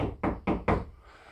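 Three evenly spaced knocks on a wall sound close and sharp, each a solid rap, followed by a moment of quiet room tone.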